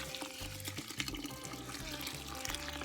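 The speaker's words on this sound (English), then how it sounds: "I'm gonna put some water in on the wheat first" Water poured onto wheat grain in a container to soak it, a steady splashing, gurgling stream running continuously and close by, with faint low knocks underneath.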